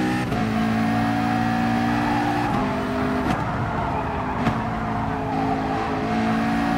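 A Porsche race car's engine drones loud and close with steady harmonic tones, shifting pitch as it moves past, with no talk over it.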